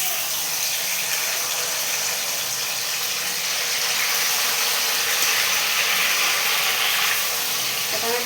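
Chicken pieces dropped into hot ghee in a kadai for biryani, giving a steady, loud broadband sizzle that holds evenly throughout with no talk.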